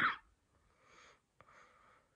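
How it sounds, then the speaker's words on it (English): A single sharp cough bursts out at the start, followed by quiet breathy exhales and a faint catch of breath in a quiet room. "I cough."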